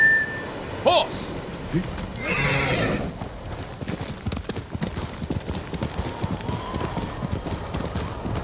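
Horse hooves clip-clop at a steady trot in the Ghost of Tsushima video game, with a whinny near the start, a whistle, and game ambience and voices around them.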